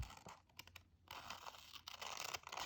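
Scissors snip through paper while a star clock is cut out, giving a run of close, dry cuts and crinkles with short pauses between bursts and no talking.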